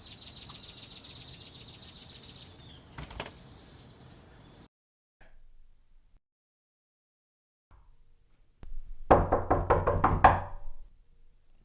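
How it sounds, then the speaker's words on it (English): A bedroom door is rapped in a rapid series of firm knocks near the end, close and fairly loud, following a faint tone and a stretch of near silence. "Heather, open this door right now."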